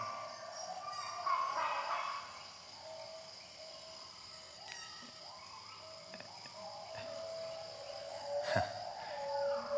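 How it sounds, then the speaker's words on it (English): Cicadas in a rainforest give a steady, high-pitched buzz that runs through the whole stretch as part of the dense forest ambience, with faint scattered bird calls and a brief sharper sound near the end. "This is a cicada."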